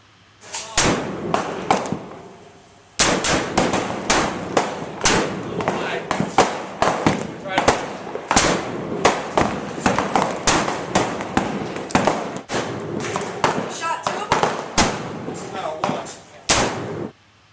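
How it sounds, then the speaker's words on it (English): A custom M4 rifle fires at an outdoor shooting range. Sharp, loud reports come one after another in an irregular string, each cracking and echoing briefly before the next. "Here we'll see a rifled gun in use."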